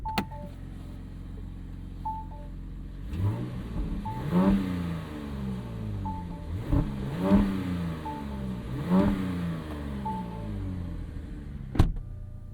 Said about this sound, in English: give you a couple revs so you can hear what this 3-liter sounds like